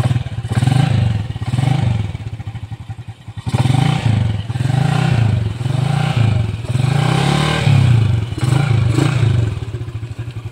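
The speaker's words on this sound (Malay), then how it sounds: "we need to run the engine first. Make sure to make it run." A Yamaha LC135 motorcycle engine runs close by after an oil change, its loud idle chugging steadily with repeated rises and dips in revs, no talking over it.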